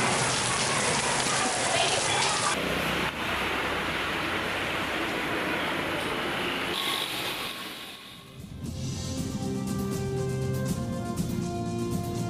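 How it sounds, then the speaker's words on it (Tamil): Widespread rain from Cyclone Nada over Tamil Nadu is a steady, loud wash of rainfall lasting most of the stretch. It then gives way to music toward the end. "நாடா புயலால் தமிழகத்தில் பரவலாக மழை,"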